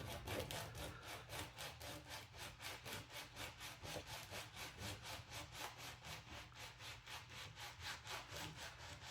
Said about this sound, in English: Just let the sandpaper do its work.